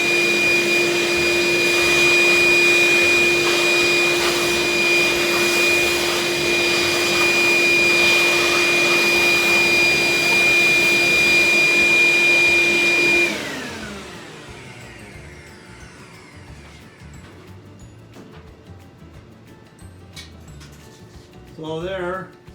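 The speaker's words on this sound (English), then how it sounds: "I'm going to use the vacuum to suck out any dust that's in here" A shop vacuum sucks dust out of a woodworking piece with a loud, steady whine that runs for about thirteen seconds, then cuts off and winds down into a quiet room.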